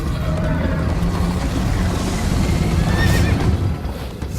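A horse whinnies over rapid galloping hoofbeats, with a rushing, rumbling soundscape beneath, from the video game Minecraft: Story Mode.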